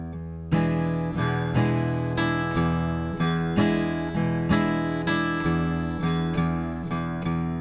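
Acoustic guitar plays a blues shuffle at a very slow tempo, evenly spaced strummed chords ringing out one after another, close-miked and alone.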